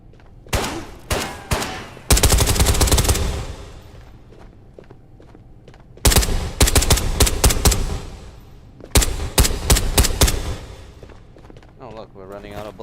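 Rapid bursts of automatic gunfire in the VR shooter Ghosts of Tabor, loud and close, coming in several long volleys separated by short pauses, with a few single shots and faint footsteps between them.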